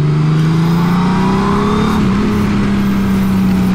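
A Honda Goldwing touring motorcycle engine droning steadily at high revs on a race circuit, engine braking, close up, with a smooth sustained pitch that dips slightly midway.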